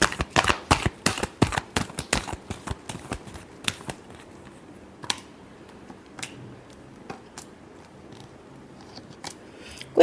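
Tarot cards are shuffled with a rapid run of crisp riffling snaps, then the pace slows to a few scattered soft taps and flicks in a quiet room.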